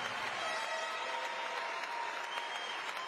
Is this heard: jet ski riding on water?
no